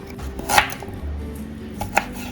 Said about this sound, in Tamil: இப்போ ஜிஞ்சரை வந்து சாப் பண்ணி வச்சுக்கிறோம், நல்ல பொடியாக சாப் பண்ணி